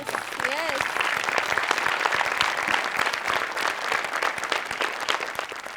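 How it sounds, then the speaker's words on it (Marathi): An audience at a Marathi comedy show claps for the juniors, dense and sustained applause running throughout with voices mixed into the crowd noise. "आज आपण ज्युनियर्ससाठी एकदा टाळ्या वाजवूया"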